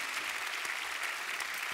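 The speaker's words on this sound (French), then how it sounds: "Merci donc à nos invités, on peut les applaudir très très fort." Audience applause for the guests at the closing plenary of an ecology conference: a steady, distant wash of many hands clapping throughout, fairly quiet and continuous, with no talk over it.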